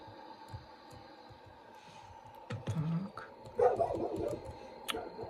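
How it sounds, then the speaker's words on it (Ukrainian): Neighbours' dogs bark at a distance, several scattered barks growing louder toward the end over a low steady hum, with no talking. "Як мене достали ці сусідські собаки, ви собі не представляєте, вони мені не дають записати нормально відео"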